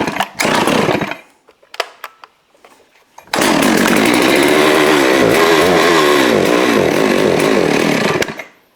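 A Neotec 892 Stihl-clone chainsaw sputters briefly, then roars to life and holds a loud, raw, steady running drone up close before cutting off.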